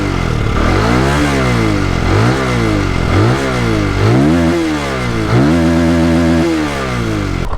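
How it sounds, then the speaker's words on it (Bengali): A Benelli 165S motorcycle's exhaust roars through about six quick throttle blips, each rev climbing sharply then dropping back to idle, loud and close with no talking. "তো আপনাদেরকে একটু এক্সস্ট সাউন্ডটা শুনিয়ে দিই"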